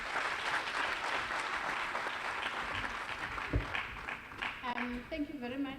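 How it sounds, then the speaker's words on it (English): Audience applause for a deputy director-general at a community imbizo in Saldanha, a broad wash of clapping that fades out as a voice begins speaking. "Can all of us give a hand applause to her?"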